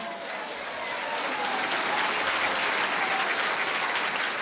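A church congregation breaks into strong, steady applause, a dense wash of many hands clapping at moderate distance, building slightly and holding evenly without talk.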